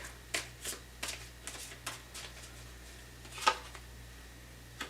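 Tarot cards shuffled and drawn by hand: a series of short, crisp riffling and slapping bursts spread irregularly over several seconds, close and fairly quiet over a steady low hum, with one sharper snap near the end.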